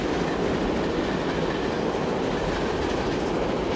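Train rolling steadily along double track in Transport Fever 2 on a congested UK line, a continuous rumbling wheel noise with faint clickety-clack, heard alone with no talk.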